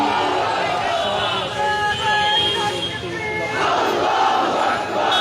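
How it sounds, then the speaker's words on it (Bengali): A large crowd at Dhaka University chants the Nara-e-Takbir Allahu Akbar slogan, many voices together in loud, swelling waves that fill the space continuously. "নারায়ে তাকবীর আল্লাহু আকবার স্লোগানে কিন্তু মুখরিত এই ঢাকা বিশ্ববিদ্যালয় এলাকা।"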